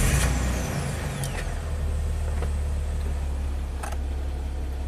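A Jeep with a long-crank-time fault and crankshaft sensor trouble, its engine turning over and running with a steady low rumble, a few sharp clicks and short hisses on top, close by and without voices.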